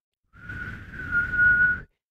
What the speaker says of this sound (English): then he would blow the whistle